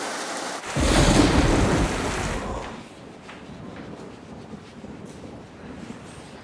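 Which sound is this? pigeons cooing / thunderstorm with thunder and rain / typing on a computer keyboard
thunderstorm with thunder and rain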